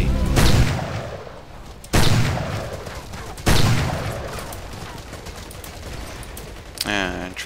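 Sniper gunfire in the video game Battlefield Heroes: three loud, sharp shots spaced about a second and a half apart, each with a long rumbling decay, followed by a fainter metallic click at the end.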